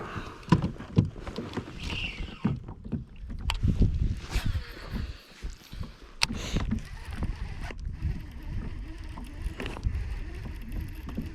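A kayak paddled on a pond makes irregular close splashes and knocks of the paddle against water and hull, with a quiet outdoor background and a little wind.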